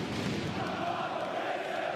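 Darts crowd roaring for Michael van Gerwen during a Melbourne Masters quarter-final against Whitlock, a dense sustained cheer and chant filling the arena for two seconds.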